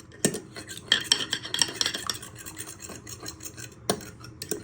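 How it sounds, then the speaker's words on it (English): Eggs are whisked in a bowl with a utensil, a close, brisk run of rapid clinks and scrapes with a few sharper knocks against the rim, with no talk. "So we're just breaking down our eggs."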